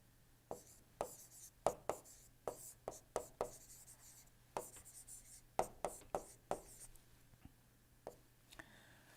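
A pen or marker writes on a board or paper in short, quick, distinct strokes, a faint irregular scratching and tapping rhythm with brief pauses.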